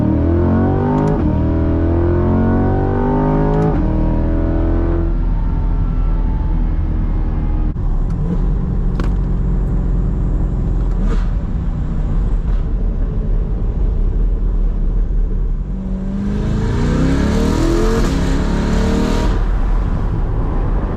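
A Chevrolet C8 Corvette accelerates hard through several rising gear sweeps, its engine climbing and dropping between shifts, loud and continuous, with a bright whooshing roar building toward the end.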